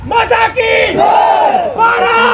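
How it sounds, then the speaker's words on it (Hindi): A crowd at a political protest by corporators supporting BSF and CISF aspirants loudly chants slogans together, close and forceful, with voices rising and falling in unison. "यहाँ पर जो है नारेबाजी की जा रही है"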